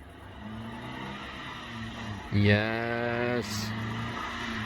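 A Dacia Logan wagon on a race track, its engine rising in a loud, climbing rev for about a second over a steady background hum, with people talking nearby.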